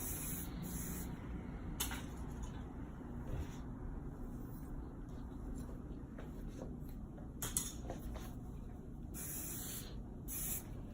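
Fluxus hairspray misted onto hair during an updo, in several short hissing bursts of varying length, close and fairly soft, with gaps of quiet between.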